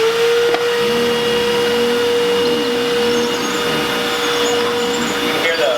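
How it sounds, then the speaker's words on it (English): An upright vacuum cleaner with its brush running gives off a loud, steady hum with a constant whine, while a person talks faintly beneath it. "It's really the vacuum part that's creating the most noise on these two models here."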